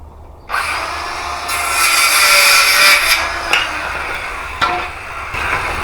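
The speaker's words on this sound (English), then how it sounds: "I love these battery powered saws." A battery-powered saw cuts through wood, a sustained loud buzzing whine lasting several seconds, with brief dips and surges as the blade bites, all close up with no talk.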